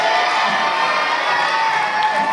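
An audience of children at a variety show cheers and shouts in a dense, continuous roar, loud and bright, with clapping blended into the excited noise.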